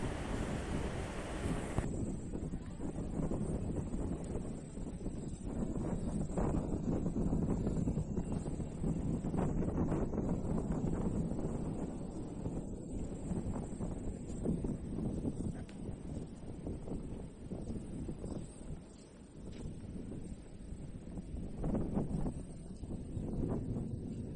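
Strong wind roars steadily during rain near a hilltop church in Himachal Pradesh, buffeting the microphone in a dense, continuous rush for the whole stretch, with no voices.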